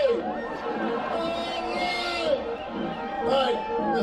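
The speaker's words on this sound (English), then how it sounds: "Wow, this is the best crowd we've had all day." A cheering, chattering crowd at a Groundhog Day event fills the space with steady hubbub, with an announcer's voice rising above it.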